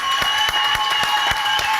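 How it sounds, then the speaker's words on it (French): Studio audience applauding on a French TV show, a dense steady wash of many hands clapping with no gaps for the whole stretch, fairly loud and close. "je vous demande d'applaudir très très fort"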